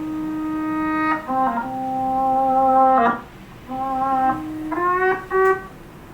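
Reversed, chopped guitar part played back on an Akai MPC, sustained harmonic tones swelling in and cutting off abruptly in short segments, with shifting pitches, clear and alone with no talking.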